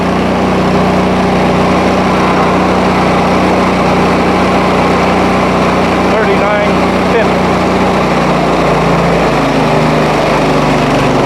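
A HotJet 2 37HP fuel-injected, trailer-mounted sewer jetter engine runs steadily and loudly at 4,000 PSI, a constant close drone with a faint voice briefly under it.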